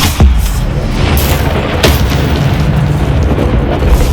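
The Stupefy spell strikes in Hogwarts Legacy on Xbox Series S, landing as loud booming impacts over a dense, continuous rumble of game effects.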